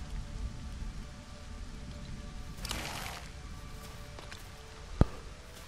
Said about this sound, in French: Oui, là, il pleut et tout.